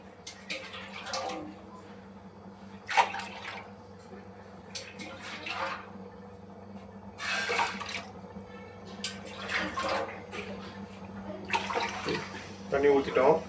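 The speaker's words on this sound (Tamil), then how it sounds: "தண்ணி ஊற்றிக்கங்க." Water pours into a pot for chicken biryani rice, a rushing, splashing flow that swells and ebbs, heard over a low steady hum.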